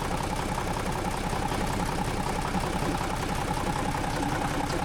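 A 1940s CAT D8 dozer's diesel engine with blow-by runs steadily at idle, a dense, continuous rumbling chug with an even, unbroken drone close by.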